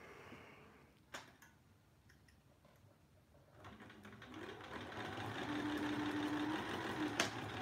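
A domestic sewing machine joins rows of quilt blocks, starting with soft handling clicks before its motor rises into a steady, moderately quiet whirring hum that holds to the end.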